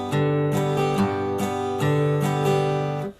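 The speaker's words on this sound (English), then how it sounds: "so that's a real typical bluegrass strumming pattern" Acoustic guitar in a typical bluegrass strumming pattern, alternating bass notes with crisp chord strums in a steady, bouncy rhythm, close and clear for about three seconds.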